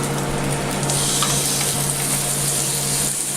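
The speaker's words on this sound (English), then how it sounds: "so I can start frying the chicken breast pieces." Chicken breast pieces sizzle and crackle steadily in a hot pan, a loud, continuous frying hiss with no talking.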